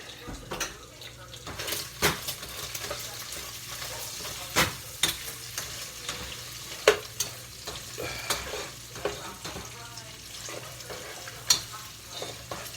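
Bacon fries over high heat in a non-stick pan for zuppa toscana, a busy crackling sizzle with frequent sharp pops and occasional scraping stirs, close and continuous.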